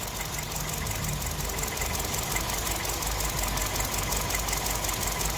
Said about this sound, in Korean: 심하게 떱니다, 엔진이.